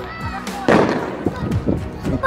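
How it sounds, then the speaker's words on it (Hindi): Sharp firecracker bangs pop in an irregular burst during Eid celebrations, close by, with voices talking underneath. "ये देखो बहुत ज्यादा पटाखे फूट रहे हैं"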